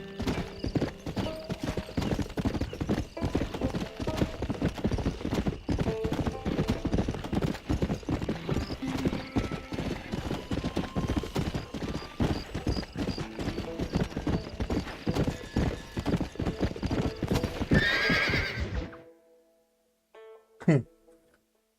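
A horse in a video game gallops with steady, rapid clip-clopping hooves for nearly twenty seconds, then the hoofbeats stop abruptly, leaving near-silence before a short whinny.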